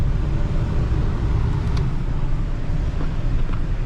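A classic 4.3L engine idles steadily with the air conditioning switched on, a smooth low rumble that stays even and fairly loud, with a couple of faint clicks and no talk.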